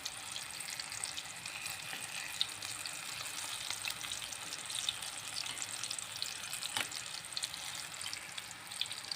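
Chicken longganisa fries in a pan as it browns, giving a continuous close crackling sizzle with scattered small pops and the occasional scrape of stirring.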